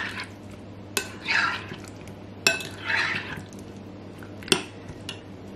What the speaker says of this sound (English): I'm gonna gently stir this up to make sure everything gets coated.